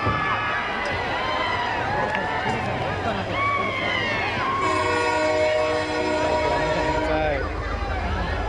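A train sound effect plays during a college one-act stage play in Pune: rumbling rail noise, then a loud sustained multi-tone horn blast for a few seconds, with faint voices and stage ambience underneath.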